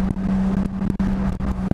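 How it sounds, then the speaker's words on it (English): A Toyota Supra from the 1980s hums steadily with a strong low drone, swelling in short surges as it accelerates, heard close and loud with no talking. "This car does really, really good. It accelerates really good."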